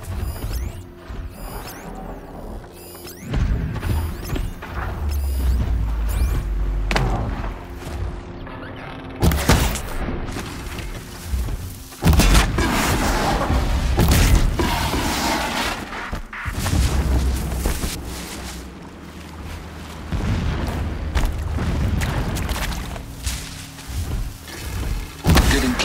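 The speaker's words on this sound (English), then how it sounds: "Explosions in the distance." Low booms and heavy thuds roll through a Horizon Zero Dawn game scene, distant explosions recurring irregularly over a long stretch amid rumbling ambience and occasional sharp impacts.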